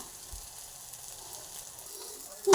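Pointed gourd (potol) frying in a kadai for a mash, giving a faint, steady low sizzle, then a sudden loud clatter right at the end.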